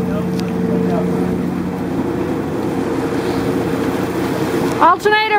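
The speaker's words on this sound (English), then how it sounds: "we're going to do a wide open throttle run" Motor yacht engines at wide open throttle, a steady loud low drone with wind and water rush, continuing unbroken before a brief burst of voices near the end.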